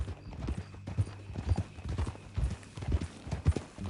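Horse hooves clip-clop in a steady walking rhythm in a video game, close and distinct, with a faint hum behind them.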